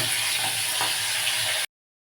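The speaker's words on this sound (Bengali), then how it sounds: "আমি একটা একটা করে মাছ ভেজে নেব" Pomfret fish frying in hot oil in a pan: a steady, close, crackling sizzle that holds evenly, then cuts off abruptly.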